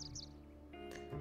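Birds chirp in the video game The Sims 4 on a Wild West ranch, quick high tweets early on over a steady droning game soundscape, fairly quiet.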